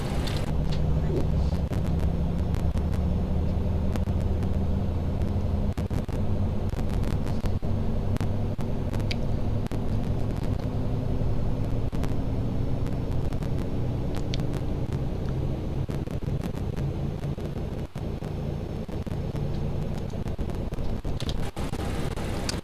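Simulated Boeing 737-800 in Ryanair livery starting its number two engine in X-Plane 11, a steady loud low rumble with a slowly rising whine as the engine spools up, continuous throughout.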